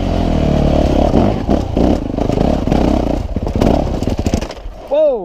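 A Yamaha YZ450F four-stroke dirt bike runs loud and close, its engine revving and clattering over rough trail riding, then cutting out abruptly near the end, followed by a brief rising whine.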